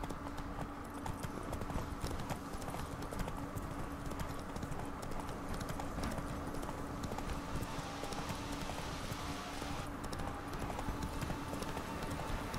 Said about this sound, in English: This isn't a bad horse for a mouse.